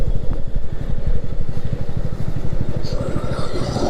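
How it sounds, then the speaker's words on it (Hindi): Motorcycle engine idling and puttering steadily at close range as the bike is slowly turned around on a mountain road in Uttarakhand, with a continuous low rumble throughout and a faint voice briefly under it. "तो अब मुझे मोड़नी पड़ेगी वापस बाइक"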